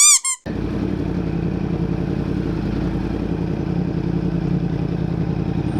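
Motorcycle ridden on winter roads, a steady close engine drone with rattling clatter running continuously after a brief high-pitched sound at the start.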